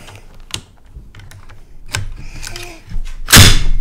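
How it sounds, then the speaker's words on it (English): Pulling back the bolt of a Browning 1919 closed-bolt machine gun: scattered metallic clicks and sliding scrapes that build to a sharp, loud clack near the end. "So we pull the bolt back."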